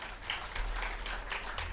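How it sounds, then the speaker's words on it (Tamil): Audience at a Tamil motivational talk breaks into applause, a brief, fairly soft patter of many hands clapping with a low hum underneath. "கைதட்டுங்க."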